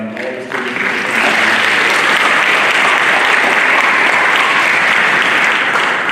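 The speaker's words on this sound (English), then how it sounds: "would you join me in applauding all the students?" An audience at a high school orchestra costume concert breaks into loud, sustained applause for the student musicians, starting with a few claps and quickly swelling into a dense, even wash that holds to the end.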